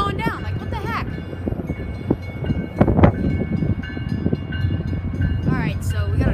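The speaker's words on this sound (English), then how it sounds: "This is supposed to be an express train." An express train approaches and passes a level crossing whose gates are malfunctioning. A loud, rumbling rail roar with rattling cars and a warbling bell or alarm comes through while people talk over it.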